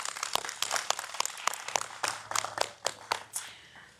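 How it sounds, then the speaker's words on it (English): Audience applause at a school STEM academy launch event in Suffolk, Virginia: a scattered, moderately loud round of clapping with sharp individual claps standing out, sustained for a few seconds and tapering slightly. "round of applause"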